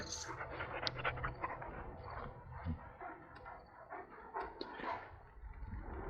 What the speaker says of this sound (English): Is that a war dog or a giant puppy?